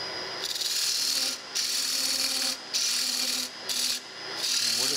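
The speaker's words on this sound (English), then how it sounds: "now I'm just going to take a scraping tool here" A hand scraping tool scrapes a wooden foundry pattern for a steam stoker engine valve, giving loud rasping strokes in a rhythmic series with brief pauses between them, close by and alone.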